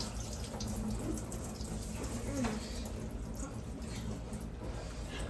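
Water runs steadily from a tap over meat rinsed under it, a soft continuous splashing with a few brief drips, fairly quiet throughout.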